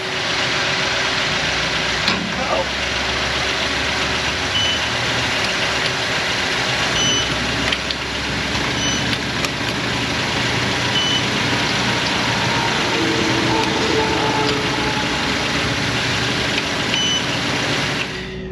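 A Jeep with a freshly adjusted lift kit runs steadily as it pulls out of an auto repair shop, its engine droning continuously while faint beeping sounds in the background.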